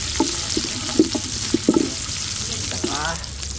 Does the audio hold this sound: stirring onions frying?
yes